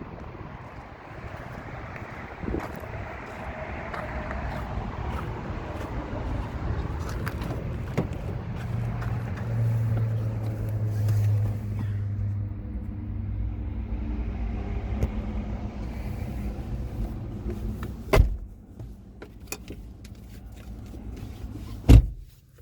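A car cruising past a railway depot near a 1950s cinder block building on the Southern Pacific Sunset Route at Beaumont Hill, heard as a steady low road rumble from inside the cabin, with a couple of sharp knocks near the end.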